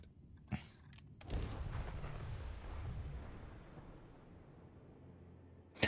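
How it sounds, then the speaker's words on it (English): A flashbang grenade goes off in the video game Starfield: a single heavy boom that rumbles and slowly fades over several seconds, preceded by a sharp click and fairly quiet overall, with no speech. "Flashbang."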